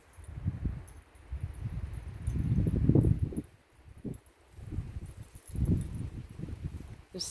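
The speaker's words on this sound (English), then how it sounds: "Just how the wind is all around us and everything is moving" Wind gusting through swaying trees outdoors, a broad low rushing roar that swells and fades in waves, loudest mid-clip and easing briefly before building again, with faint leafy rustle on top and no voices.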